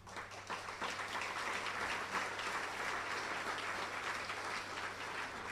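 A large audience at a State of the District address breaks into sustained applause, a dense, steady wash of many hands clapping that holds at an even level for several seconds without any speech.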